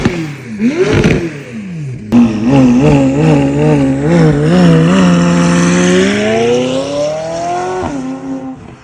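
A McLaren 570S with a straight-piped Valvetronic exhaust is revved loudly up close, opening with a quick blip and then a sustained, wavering high-rpm roar that falls away near the end.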